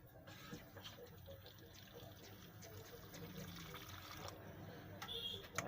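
Water trickles and splashes as it is added to a thick ogi pap mixture. The sound is faint and continuous, with quiet background murmur and clatter.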